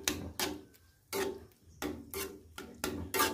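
Ground rice being stirred into bottle gourd kheer in a pot, a spoon scraping and knocking against the pot in about seven distinct strokes, close and fairly loud with short pauses between.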